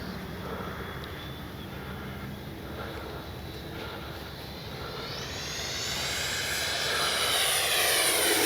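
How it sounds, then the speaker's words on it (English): A Freewing 80mm JL-8 RC model jet flies overhead, its steady turbine whine swelling louder and rising in pitch as it sweeps closer toward the end. "Man, it's a good flying jet."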